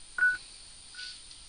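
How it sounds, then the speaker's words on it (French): Two short telephone keypad tones beep from a phone dialing a number, one louder and one quieter, separated by a brief gap over a faint steady hum. "On va donc appeler ce numéro de téléphone"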